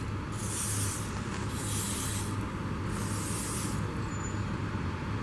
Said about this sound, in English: A little spray.